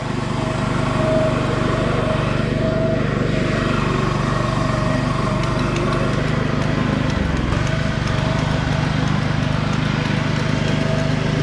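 A self-propelled lawn mower with automatic drive runs steadily and close by. Its engine drone stays constant and loud across the whole stretch, with no breaks or clear voices.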